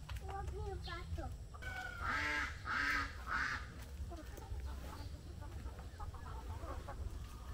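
Ducks quack and honk in short bursts nearby, a few loud calls standing out, while people talk quietly in the background.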